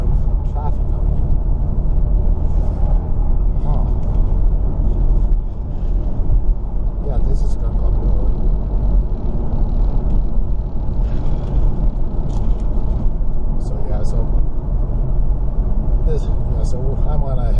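Heavy traffic on a congested two-lane road heard from inside a moving car: a constant low engine and tire rumble, with occasional brake-like hisses. Someone talks over it.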